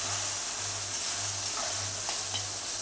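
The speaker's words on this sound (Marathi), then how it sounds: "हे वाटण असं भाजून घ्यायचं, चांगलं तेलात परतून घ्यायचे" Ground masala paste frying in oil for shipi amti gives a steady, close sizzle that hisses on without a break, with a faint low hum pulsing underneath.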